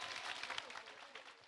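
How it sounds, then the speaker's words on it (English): Crowd applause at a citizenship ceremony, a faint, steady wash of clapping heard at a distance, with no talk over it. "Joy and applause filled the air"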